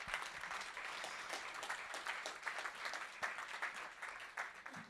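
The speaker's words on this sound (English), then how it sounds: "So first of all, an applause for Paolo to join us" Audience at a bank keynote event giving a round of applause, moderately distant clapping with uneven bursts that swell and thin out over several seconds.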